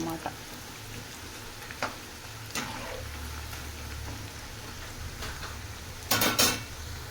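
Food fries in a pan in a home kitchen with a steady soft sizzle throughout, punctuated by a few sharp clinks of utensils against cookware and a clattering bump near the end.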